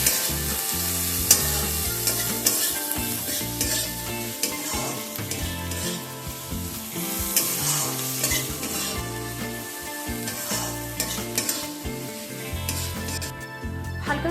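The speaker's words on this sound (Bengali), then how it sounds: "তেল গরম হয়ে গেলে এখানে একটা বড় সাইজে স্লাইস করে কেটে রাখা পেঁয়াজ তেলের মধ্যে অ্যাড করে দেব।" Sliced onions fry in hot mustard oil with a steady, dense sizzle, stirred now and then, while background music plays alongside throughout.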